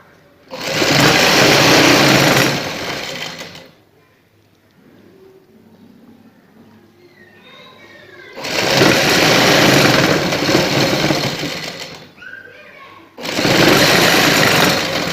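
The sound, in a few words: sewing machine stitching a shalwar hem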